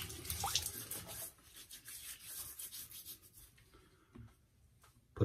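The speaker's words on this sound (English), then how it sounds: "I wet my face a little." Water splashed and rubbed onto a face before a shave, heard as close wet rubbing and dripping that fades to quieter patting, ending with a sudden louder burst of handling, with no talking.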